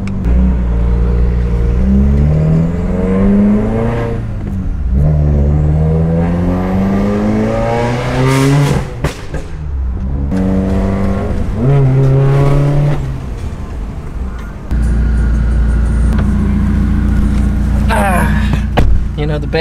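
Subaru WRX with a stage 2 tune revving hard, the engine climbing through repeated rising sweeps and gear changes, loud and close, with a burbling idle near the end.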